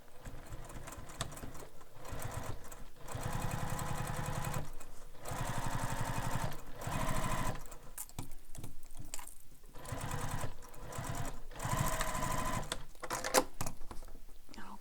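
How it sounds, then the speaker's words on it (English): Sewing machine basting across the short edges of a fabric wallet, running in a string of steady whirring bursts separated by brief stops, close and fairly loud. "Now we're going to baste across these short edges."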